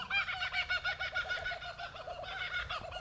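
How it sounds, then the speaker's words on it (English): Kookaburras call in a loud, rhythmic, cackling chorus outdoors, the repeated laughing phrases pulsing steadily for a few seconds with no talk over them. "You alright, kookaburras? Bit noisy today."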